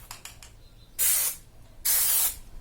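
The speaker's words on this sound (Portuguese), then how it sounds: "Essa daqui é uma cola em spray." Spray adhesive hisses from a can onto thermal blanket fabric in two short, close bursts, each about a third of a second, with faint handling sounds before them.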